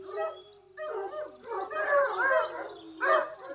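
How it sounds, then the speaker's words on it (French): A dog vocalizes in a series of whiny, yelping barks and whimpers, close and fairly loud, with short pauses between bursts. "Ah, mon chien."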